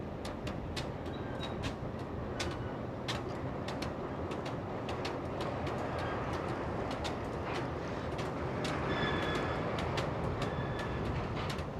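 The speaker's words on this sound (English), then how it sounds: "These yard goats are EMD SW1200s. That's 1200 horsepower switching engines." EMD SW1200 switching locomotives, 1200-horsepower yard engines, move through the Altoona marshalling yard with a steady low rumble of rail cars, while birds and pigeons chirp and coo repeatedly over it.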